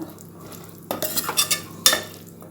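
Boiled chickpeas stirred in a pan for chickpea biryani, several close scraping, clattering strokes of a spoon against metal, then a final sharp knock, over a faint background hiss.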